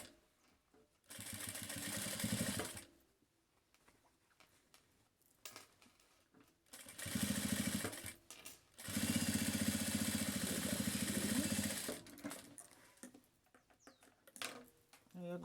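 A sewing machine runs in several sustained bursts while stitching a seam on a phone wallet, a steady whirring hum that starts and stops, with quiet gaps and a voice speaking in between.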